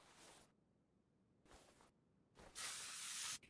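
A spray can in the video game Car Mechanic Simulator 2021 hisses in three bursts: two short sprays, then a louder, longer, steady blast, with near-silent gaps between.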